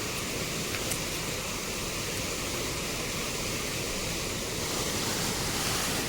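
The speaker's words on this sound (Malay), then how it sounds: "So, sungai dia ni lah." A river flows past a campsite at Janda Baik, Pahang, a steady, dense rushing of water that holds even throughout, fairly close and with no voices.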